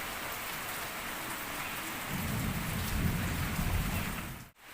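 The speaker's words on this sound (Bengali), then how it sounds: "দেখতে পাচ্ছ বাইরে কিরকম বৃষ্টি হচ্ছে" Heavy rain with strong gusty wind outdoors makes a dense, constant hiss that swells into a deeper, louder roar partway through, then briefly drops near the end. No speech.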